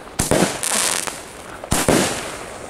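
A 16-shot firework cake going off outdoors, with two sharp launches standing out, each followed by a crackling, sizzling burst and a noisy tail; loud and fairly close, no voices.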